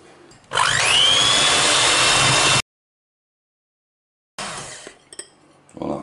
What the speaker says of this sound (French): On va monter les blancs d'œufs.